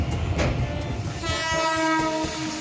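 Kumbh Express passenger train heard from beside the carriage door on a hot, late-running run out of Howrah, with loud rolling rumble and a sustained horn tone entering partway and holding to the end.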